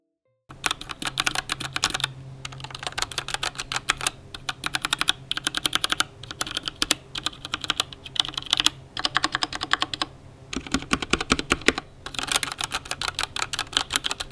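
Clacky keystrokes on a mechanical keyboard fitted with pink switches, typed in fast irregular bursts with brief pauses, close and clear with no talking over them.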